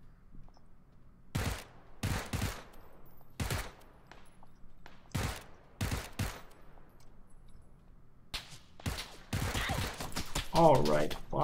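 Gunfire in a battle royale video game comes in a string of sharp, separated shots and short bursts spread across the stretch, with a player's voice talking near the end.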